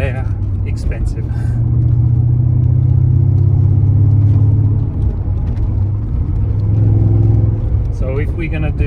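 A BMW E31 840ci with a swapped six-speed manual gearbox cruises at steady speed, its engine a loud continuous low rumble heard from inside the car, with a person talking over the drone.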